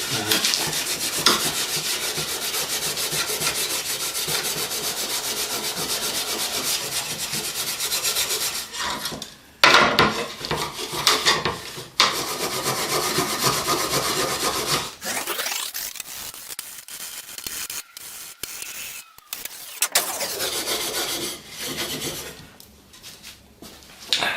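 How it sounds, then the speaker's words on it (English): Carbon scale and crud are scraped and rasped off a handmade bushcraft knife blade in long, continuous strokes with brief pauses. The sound is close, harsh and gritty, with no talking. "Getting all the crud off."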